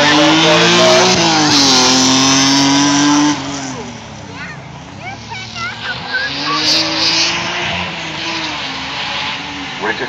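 A BMW E36 race car at a 2011 Limerick car show roars past close and loud, its engine note holding high then dropping away after a few seconds as it recedes, with a commentator talking throughout.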